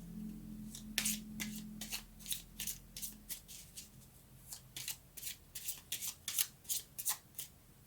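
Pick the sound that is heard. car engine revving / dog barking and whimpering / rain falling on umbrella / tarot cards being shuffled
tarot cards being shuffled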